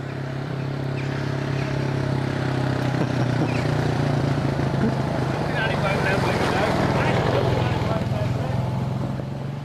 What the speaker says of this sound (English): it happens to be a bloke on a tractor